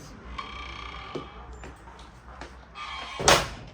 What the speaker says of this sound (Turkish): Şimdi kapıyı açıyoruz.